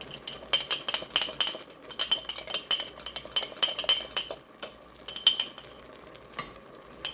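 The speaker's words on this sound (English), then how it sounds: "Let me stir that up because I like the brown bits and stuff underneath" A utensil stirs and scrapes bacon grease in a cooking pan, giving repeated quick metallic clinks and scrapes in an uneven rhythm, close and fairly loud, with no talking, before the clinks thin out near the end.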